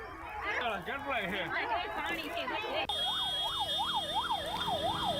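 An ambulance siren wails at a rescue operation after a cable bridge collapse, first amid crowd talk and traffic, then rising and falling in a steady, close, loud cycle.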